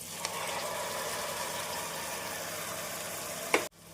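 Soaked rice sautéing with onion masala in a pan, a steady close frying sizzle and crackle throughout, with a brief stir clatter near the end before it cuts off.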